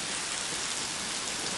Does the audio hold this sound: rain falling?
yes